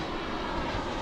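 Airplane engine roar from a plane flying low over a campground near the Myrtle Beach airport, a steady, loud broadband rumble filling the whole moment without pause.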